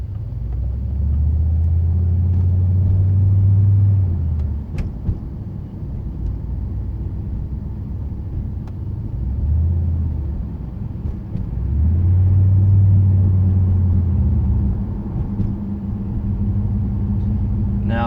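A 2008 Pontiac Grand Prix GXP with a Thrush welded muffler cruising, its exhaust a steady low drone that swells into two louder rumbling stretches and eases back, heard from inside with no talk.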